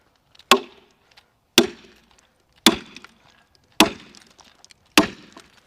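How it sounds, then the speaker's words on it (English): Five sharp, evenly spaced cracks of a large white oak log splitting under wedges, each ringing briefly before the next blow, close and clear with quiet between hits. "You can hear it. It's splitting already."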